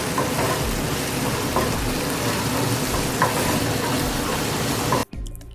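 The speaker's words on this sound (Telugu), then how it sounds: "ఇలా 5 నిమిషాల పాటు వేగనించి స్టవ్ ఆఫ్ చేసేయండి." Tomatoes with turmeric and chili powder fry in a pan, a dense steady sizzle with crackling pops running close and loud throughout, cutting off abruptly near the end.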